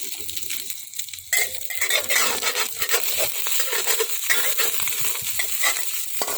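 A stuffed Thai omelette frying in a pan, with a steady close sizzle of hot oil and scraping, stirring utensil sounds as it is turned.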